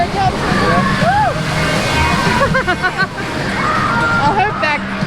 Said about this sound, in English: it's one of the larger drops I've seen on one of these rides, and the splash is insane.